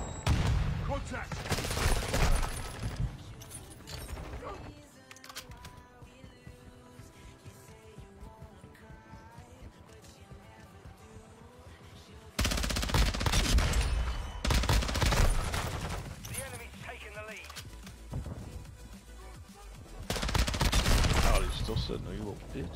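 Gunfire in a first-person shooter video game: heavy bursts of rapid automatic fire and explosions come in loud waves, easing to a quieter stretch with faint shots before rising again, with players talking over it.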